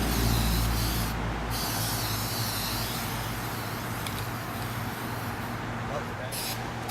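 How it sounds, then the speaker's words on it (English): Spray paint hisses from a can onto a kid's bike, a loud, steady, close hiss lasting several seconds with small changes in strength, and a voice talks underneath. "now you'll see that we're spray painting the bike"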